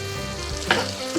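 Onions and celery sautéing in a pot as the base for corn and crab bisque, with a soft steady sizzle and a brief stir or scrape partway through.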